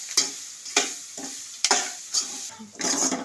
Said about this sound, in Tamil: தட்டி எவ்வளோ வறுக்க முடியுமோ அவ்வளோ வறுக்கணும்